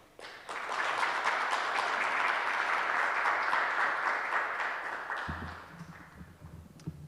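A crowd breaks into sustained, dense applause for the CEO at the SAHRIS 2.0 launch during Heritage Month. The clapping is loud and steady for about five seconds, then fades, with a low hum and a faint voice at the end.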